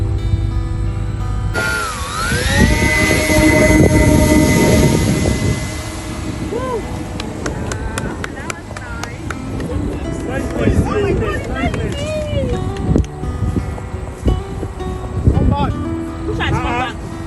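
A foam long-range delivery drone takes off outdoors, its motor whine rising and sweeping in pitch amid wind buffeting, while several people talk and call out over it.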